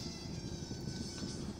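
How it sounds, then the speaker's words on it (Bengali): Cabin drone of a 2012–2013 Toyota Corolla Altis diesel, a steady low engine and road rumble filling the interior, with AC airflow faintly beneath. "ইঞ্জিনের আওয়াজটা আসছে"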